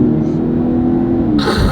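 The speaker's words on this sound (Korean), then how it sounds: "야, 이런 배기음이 나와도 되는 거야?" A BMW 740Li flagship sedan accelerates in normal mode, its exhaust giving a steady, loud low drone heard from inside the car that builds to a brief rise at the end.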